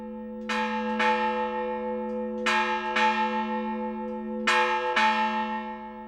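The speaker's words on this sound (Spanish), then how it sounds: "la campana volante servía de acompañamiento de fondo al repique de las otras en los días de fiesta" Village church tower bells ring out at a festival, the swinging bell backing the others, with several loud, clear strikes in pairs, each leaving a long humming ring that hangs between them.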